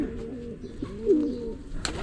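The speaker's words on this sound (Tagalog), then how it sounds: "may mga ibon pa ako ditong binigay kay Rambo" Pet birds, likely pigeons or doves, coo softly a few times nearby in a rainy outdoor setting, with faint background noise and no voices.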